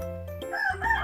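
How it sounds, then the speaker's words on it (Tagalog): A rooster crows loudly and close by, a single drawn-out cock-a-doodle-doo rising in pitch and filling the whole moment. "Pasensya na kayo sa manok ha."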